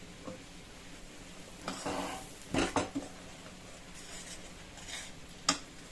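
Gram flour roasting in ghee in a pan over a medium flame for besan laddu, with a spoon scraping and clinking against the metal in a few short bursts amid quiet gaps.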